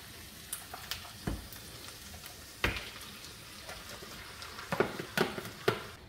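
Onions and mutton fry in a pan for a curry, giving a soft continuous sizzle punctuated by scattered clinks and scrapes of stirring, fairly quiet and close, with no talking over it.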